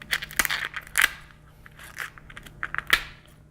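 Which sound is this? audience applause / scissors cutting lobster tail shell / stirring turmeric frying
scissors cutting lobster tail shell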